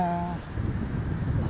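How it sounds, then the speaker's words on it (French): Gusty wind buffets a camera filming a tower at Malartic in cold weather, a steady low rumble of wind noise, with a brief tonal hum at the start. "C'est le vent qui fait bouger"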